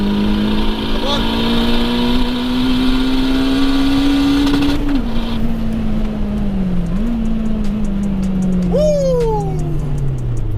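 Turbocharged 464bhp Honda DC5 accelerating hard down a quarter-mile drag strip against a 515bhp Audi RS3, a loud continuous engine note rising in pitch with brief dips at gear changes, heard from inside the car.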